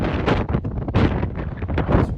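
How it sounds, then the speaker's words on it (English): Wind gusts buffet the microphone outdoors on a school campus. Uneven rumbling bursts rise and fall in quick succession, close and fairly loud, with no voices. "It's windy."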